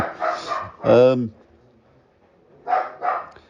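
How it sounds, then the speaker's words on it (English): A dachshund barks a few times close by, sharp yappy barks with gaps of quiet between them. "Excuse the dog barking. We're dog sitting a Dachshund this week,"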